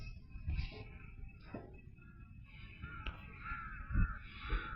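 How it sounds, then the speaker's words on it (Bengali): Several crows caw from outdoors in open air, short harsh calls repeating at irregular intervals, moderately distant over a quiet background with a few soft bumps. "অনেক সুন্দর পাখি।"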